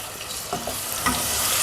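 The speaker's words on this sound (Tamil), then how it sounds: "அந்த பேஸ்ட்டை இதில் போட்டு பச்சை வாசனை போகிற வரைக்கும் வதக்கணும்" Onion, ginger, garlic, cashew and chili paste sautés in a pan for a Punjabi potato curry, giving a short, steady sizzle with a couple of soft stirring scrapes.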